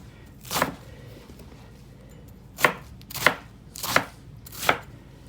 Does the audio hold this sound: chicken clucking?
no